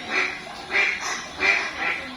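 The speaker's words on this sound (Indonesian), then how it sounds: "Para bebek menuruti perintah Kancil." Ducks quack in four separate nasal bursts spaced at a fairly even rhythm, close and moderately loud, with no other sounds around them.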